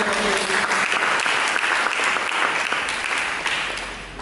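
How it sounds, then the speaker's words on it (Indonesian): Loud, dense applause from a church congregation during a sermon, many hands clapping steadily and close, holding strong before tapering slightly at the end. "Mari kita beri tepuk tangan."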